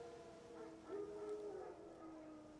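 Wild dogs howl in The Witcher 3 video game, a long wavering howl rising and sliding at mid distance over a low ambient bed, fairly faint and alone without talk.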